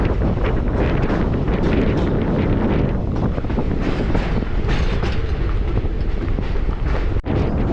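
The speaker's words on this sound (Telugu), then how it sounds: "నేను కడూరు నుంచి సుబ్రహ్మణ్య రోడ్డుకి ట్రైన్లో వచ్చాను" A train running on the Kadur to Subrahmanya Road rail route, a loud continuous roar of rolling wagons heavily mixed with wind buffeting on the microphone, steady throughout with a brief dip near the end.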